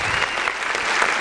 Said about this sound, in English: Please a round of applause as they come up.